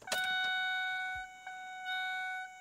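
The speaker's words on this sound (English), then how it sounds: "It sounded like the chime was definitely working. That was nice and loud." An ATOTO F7 XE car head unit installed in a 2007 Chevy Suburban dash gives a loud, clear power-up chime: a bright ringing tone with sustained harmonics, followed by two softer re-strikes as it fades.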